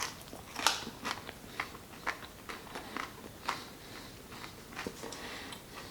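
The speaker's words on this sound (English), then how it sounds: "Now let's go in for the bite and get that crunch." Sharp crunches of a Dedicated Nutrition protein crisp bar being bitten, close and fairly loud, a cluster of crackly bites followed by scattered smaller crunches of chewing.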